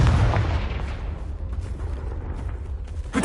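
The Confringo explosion spell in Hogwarts Legacy lets off a loud booming blast at the start, then crackling, rumbling debris that fades before a second sharp burst right at the end.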